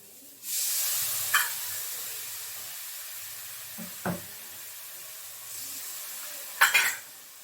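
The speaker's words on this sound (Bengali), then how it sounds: "আগে প্রথমে এই দেখো সেই বাটি ধোয়া জল দিয়ে দিচ্ছি।" Bowl-rinse water poured into fried masala for a chital fish curry sets off a sudden loud hissing burst that slowly fades, broken by a few sharp metallic clinks and a second hiss near the end, close and without speech.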